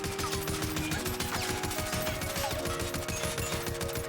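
Oden assault rifle from a first-person shooter game firing sustained full-auto bursts, a dense rapid rhythm of loud, close gunshots running steadily without pause and with no talking.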